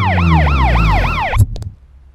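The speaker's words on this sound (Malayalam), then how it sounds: "ആംബുലൻസ്!" Ambulance siren in a Malayalam film, its rising and falling wail repeating four times loud and close, then cutting off abruptly into a few faint knocks.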